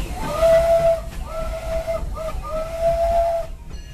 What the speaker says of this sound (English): sounds like your whistle is getting dead.